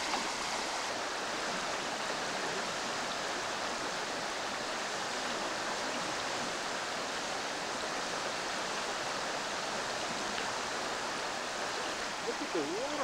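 A mountain stream and waterfalls in Sitka, Alaska rush in a steady, broadband roar, constant and fairly even throughout, with faint voices barely surfacing under the water noise.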